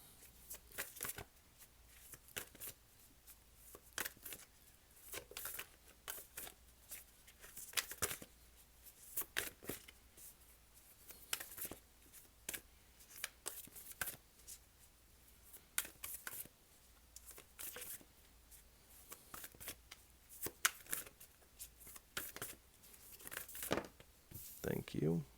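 Tarot cards from a Gita deck being shuffled and drawn, with repeated crisp riffling, flicking and papery snaps, close and fairly quiet throughout.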